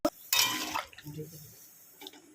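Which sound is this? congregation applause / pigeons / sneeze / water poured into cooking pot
water poured into cooking pot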